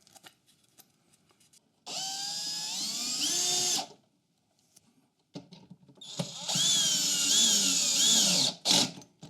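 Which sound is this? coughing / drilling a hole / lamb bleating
drilling a hole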